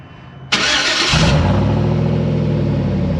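A pickup truck started remotely, not from cold: a short starter crank gives way to the engine catching with a flare and then settling into a steady, close, loud idle.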